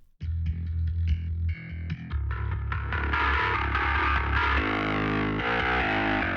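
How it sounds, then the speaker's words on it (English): Distorted metal bass from the Aurora DSP Mammoth plugin plays a short riff, starting with choppy notes and then swelling into a thick, gritty, effect-laden tone. "There are 3 different distortion types."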